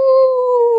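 A voice imitates a dog howling outside during a church sermon, one sustained, steady, wavering howl held at close range for under a second.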